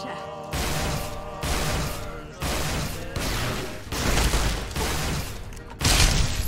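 A new energy weapon fires in the video game Fallout: New Vegas, loud dense blasts repeating in roughly one-second bursts against steady game noise, with no clear talk.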